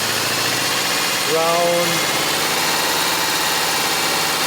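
A 4-cylinder engine running on only 2 cylinders idles at a raised RPM with a steady, rough mechanical drone throughout, while a voice speaks briefly over it.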